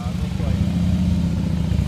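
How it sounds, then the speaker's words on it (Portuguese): A motorcycle engine hums at a steady low drone nearby while voices talk over it. "agora o Rodela andando de moto aí, ó."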